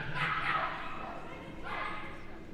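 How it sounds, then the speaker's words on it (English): A dog barks a couple of times in the background while running an agility course at the British Open Jumping competition at Crufts 2010, while a person talks over it. "Barking her enjoyment all the way round."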